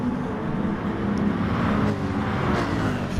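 Racing car engines in a sim racing game at Spa-Francorchamps, a Mercedes against a Porsche, hold a steady, continuous drone throughout, with a brief passing swell near the end.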